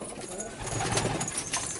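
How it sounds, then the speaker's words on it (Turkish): Konyalı breed pigeon cooing close by, a soft continuous murmur with low throaty pulses and faint rustling around it. "Mesela bu Konyalı dediğimiz bir kuş."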